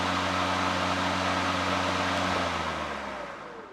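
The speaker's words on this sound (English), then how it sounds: "You can see how loud it is. It's not completely quiet, but it seems a lot quieter than a regular mower." An EGO POWER+ battery-powered lawn mower runs with a steady, close whirring hum and an airy rush, then fades away over the last second, with no talking.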